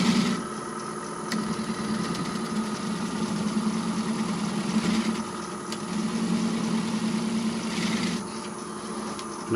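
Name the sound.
shear scraping wooden bowl on lathe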